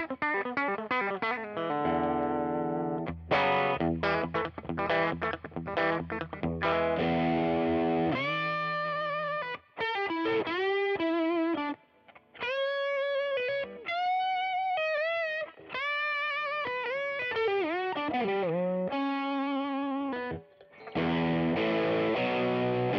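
A Fender Custom Shop David Gilmour Stratocaster Relic played through its bridge pickup alone, with distortion and effects: choppy strummed chords, then sustained bending single-note lead lines with short pauses.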